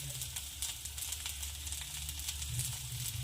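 Asafoetida and crushed peanuts sizzle steadily in hot oil for a rustic Maharashtrian leafy vegetable dish, a continuous close frying hiss with no voices.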